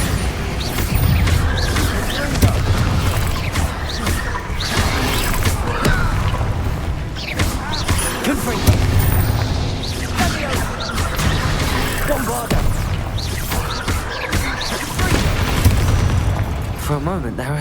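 Confringo and Bombarda spells from Hogwarts Legacy go off in repeated explosive booms and crashes, packed into a loud, dense, continuous battle din, with voices heard within the mix.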